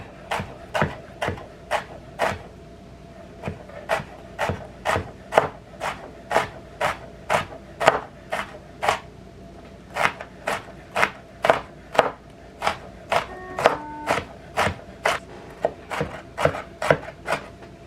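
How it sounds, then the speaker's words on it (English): A knife finely chopping lined-up pepper sticks for pico de gallo on a cutting board, sharp regular knocks repeating steadily close up for the whole stretch, with no talk. "So you want to line all of your sticks up like this, and you want to chop it up finely"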